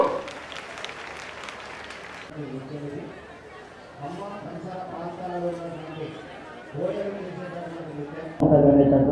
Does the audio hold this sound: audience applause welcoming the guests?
yes